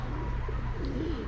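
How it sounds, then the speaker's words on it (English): Group of pigeons gathered outdoors on a Fourth of July, with soft low cooing running steadily through the clip over a constant background hum. "Our little pigeons here."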